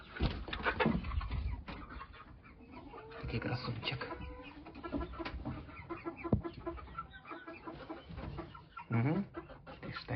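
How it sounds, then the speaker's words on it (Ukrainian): Roosters and chickens on a farm clucking busily in the background, with a crow rising near the end, while a person speaks softly now and then. "півні там буянять ззаду"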